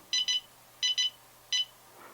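A DroneKeeper Micro lost-drone alarm on an FPV quadcopter gives out bright electronic beeps, two quick pairs and then a single beep. The beeps are close and clear over a quiet background.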